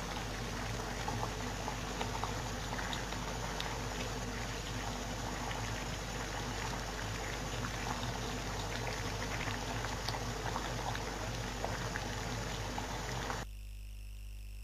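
Water at a steady rolling boil, a dense continuous bubbling and hissing that runs loud and unbroken before cutting off abruptly near the end.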